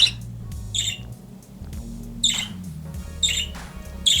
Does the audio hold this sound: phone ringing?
no